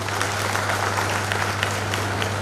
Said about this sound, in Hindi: आप थोड़ा मुस्कुरा कर तालियां बजा दीजिए